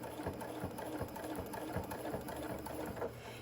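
A sewing machine stitches fabric at a slow, even pace, its needle thumping in a steady rhythm over a continuous mechanical hum, close and alone.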